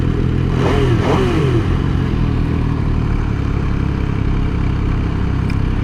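An MV Agusta motorcycle at a 2024 demo day gives a couple of quick, sweeping revs near the start, then settles into a loud, continuous engine rumble close by.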